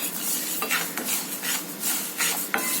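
Dalia with tomato roasts over a low flame in a pan while a utensil stirs it, producing repeated scraping strokes about every half second over a faint sizzle, with no one speaking.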